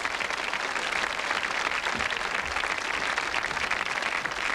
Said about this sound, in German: Ein Applaus ist doch für Sie immer drin